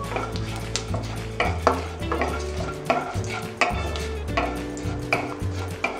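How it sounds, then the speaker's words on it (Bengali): Panch phoron and dried red chillies fry in hot oil while a spatula scrapes and clinks against the pan in repeated strokes over a steady low sizzle, close and alone with no voices. "আর দিয়ে দিচ্ছি পাঁচ ফোড়ন শুকনো লঙ্কা পাঁচ ফোড়ন খুব ভালো করে আমি ফ্রাই করে নিচ্ছি"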